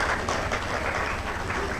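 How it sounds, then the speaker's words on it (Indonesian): Applause at a political rally honoring regional party leaders, a broad continuous crowd clapping roar with rumbling low noise, sustained and fairly loud without pause. "Tepuk tangan untuk mereka semua"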